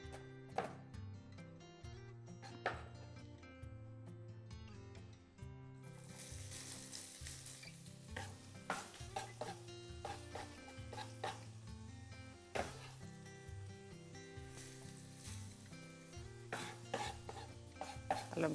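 Onion softening in vegetable oil for a pea stew, a light sizzle under background music, with scattered clinks and scrapes as it is stirred in the pan.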